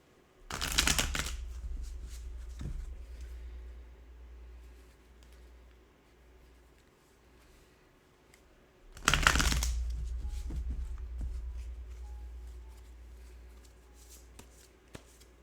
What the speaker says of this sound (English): Gonna shuffle the cards.